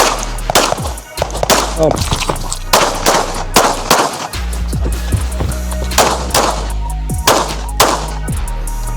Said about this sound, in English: we just shot a little mini stage with the red dot here